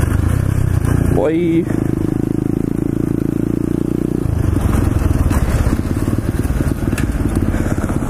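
A pit bike engine runs close by, swelling in a quick rev before settling into a steady buzzing drone and then a rougher, louder rumble; someone speaks briefly over it.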